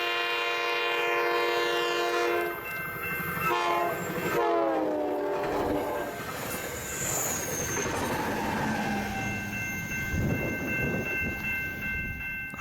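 A train led by a cab car passes a railroad crossing near San Diego, its horn blaring in a long chord that bends in pitch as it goes by, followed by rushing wheel noise and squeal.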